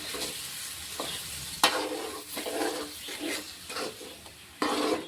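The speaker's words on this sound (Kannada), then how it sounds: "ಇದಕ್ಕೆ ಹಾಕ್ಕೊಂಡು ಇದು ಸ್ವಲ್ಪ ತಿರುಗೋಣ" A coconut, onion and tomato masala with cinnamon and cloves is stirred in a frying pan, sizzling steadily while a spoon scrapes and clanks against the pan in several sharp strokes.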